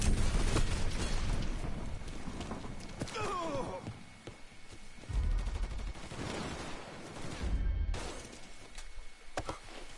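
Gunfire in the video game Mafia 3, with dense bursts of shots and impacts over rumbling game noise, easing off briefly before heavier volleys return.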